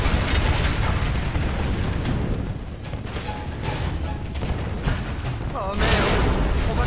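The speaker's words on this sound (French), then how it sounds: "Le mec, on dirait que toute la montagne explose." In the Tomb Raider video game, a mountain explodes in a dense, roaring barrage of rumbling blasts and crumbling debris. It continues loud and unbroken, with bursts swelling over a low steady rumble.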